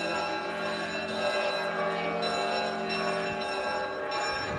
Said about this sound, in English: I'm not sure why the bells are going off.